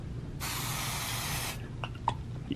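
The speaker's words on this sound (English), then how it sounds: "Then we're going to hit it with the adhesive spray." Adhesive spray hisses from an aerosol can onto a hand towel in one steady burst lasting about a second, followed by a few light clicks and handling taps.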